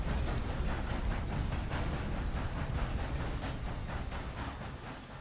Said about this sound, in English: I stopped the train at least